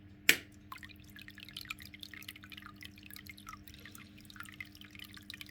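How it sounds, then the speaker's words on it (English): Water drips from the outlet of an aquarium bio sponge filter, with one sharp close drop at the start followed by soft, irregular small drips and trickling over a steady low hum. "I don't know why there's water coming out of there."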